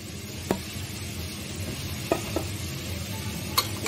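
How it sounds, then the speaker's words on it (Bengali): Tilapia fish frying with onions in a pan, a steady close sizzle underneath a few sharp scraping clinks of a utensil stirring against the pan, with no talk. "তো এখন আমি সবগুলো তেলাপিয়া মাছ দিয়ে দেব।"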